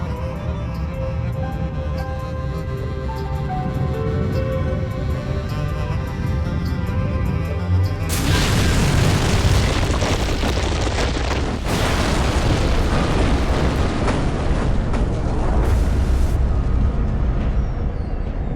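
A loud, sustained roaring boom erupts partway through, a heavy broadband blast that keeps rumbling after a quieter, droning stretch.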